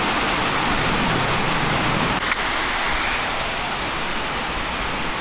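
Heavy rain pours down while floodwater rushes fast past a farm in a Kisii village. The result is a loud, continuous hiss and roar with no breaks and no voices.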